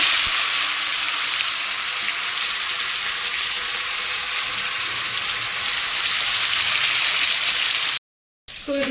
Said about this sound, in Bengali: মাছের মাছ ভাজবো তেল বসিয়ে দিয়েছি